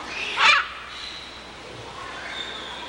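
A red macaw parrot gives one short, harsh squawk close by, followed by quieter background ambience.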